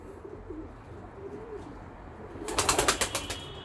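Pigeons in a coop used for raising young birds coo in low murmurs, then a burst of wing flapping erupts close by, several quick beats in a row; no one speaks.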